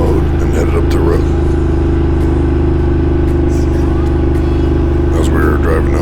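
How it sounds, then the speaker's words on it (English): A Ducati Multistrada adventure motorcycle in Enduro mode rides up a road with a loud, steady engine drone and rumble under heavy wind noise, and a voice speaks briefly over it. "we switched the multi-strada over to Enduro mode and headed up the road"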